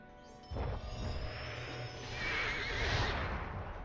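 A horse whinnies loudly and sharply in a Lord of the Rings video game, followed by a rising, breathy neigh with clattering hooves and game-like background noise.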